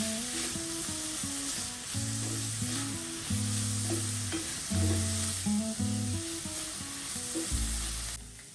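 Onions and peppers sizzle loudly in a skillet and are tossed around, a constant close frying hiss over a low humming drone, with occasional scraping as they move.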